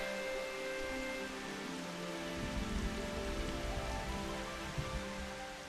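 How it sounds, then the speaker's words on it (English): Steady rain falls in a dark Final Fantasy XIV cutscene, a dense, even hiss of drops on surfaces with a faint low rumble underneath and no voices. "It was raining and dark out."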